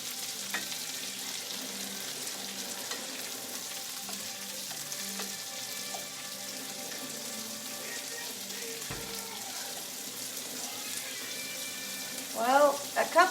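Tomatoes fry in a pan with a little grease for spaghetti carbonara, giving a steady, close sizzle throughout, broken near the end by a few brief clatters.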